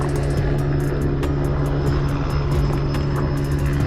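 Light aircraft engine droning steadily and loudly as it takes off near a sailboat on the Adriatic Sea, a continuous propeller hum with faint rhythmic ticking, no voices.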